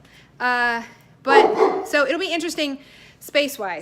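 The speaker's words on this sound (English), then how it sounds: "so that's the dog's bark." Dog giving a few short, high barks and yips, close by and mixed in with a person talking over them.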